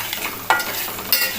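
Chili powder, turmeric and garam masala frying in oil for a field bean dish, a close steady sizzle with two sharper stirring scrapes.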